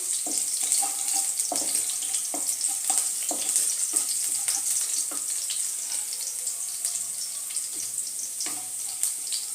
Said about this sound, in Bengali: হালকা ফ্রাই করবো এই দুটো জিনিসকে এখন গ্যাসের ফ্লেমটা আমি লোই রাখবো